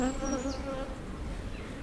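Honey bees at an open hive hum in a dense, steady drone close by, a few higher buzzing tones weaving over the low hum before settling.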